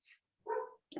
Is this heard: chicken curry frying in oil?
no